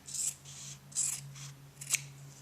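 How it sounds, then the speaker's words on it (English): Scissors snip through fabric three times at a steady pace, cutting up the back of a doll dress, crisp and close, over a faint low hum. "we just snip right up the back,"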